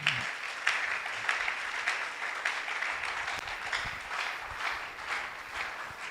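A church congregation claps together as an offering of praise during a French-language service. The applause is fairly quiet and sustained, with sharp individual claps standing out through the steady patter.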